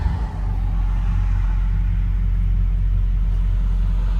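A 1969 Ford F100 Ranger's 360 V8 idles close by, giving a deep, steady low rumble that holds even and unbroken throughout, with no talking.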